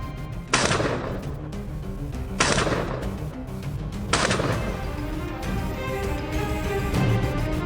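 Three loud rifle shots during a wild hog hunt, spaced about two seconds apart, each a sharp crack with a booming, reverberant tail. A steady outdoor rumble continues underneath and after them.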